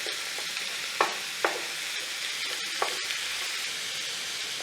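Ground meat browning for a Greek meat sauce in a hot pot, a steady broadband sizzle throughout with a few sharp scraping taps from a spoon as it is stirred and broken up, no voices.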